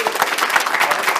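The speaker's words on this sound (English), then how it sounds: "Give yourself a big round of applause." Audience applause at a ribbon cutting ceremony for a mall museum, a short, dense burst of steady clapping that fills the moment without a break.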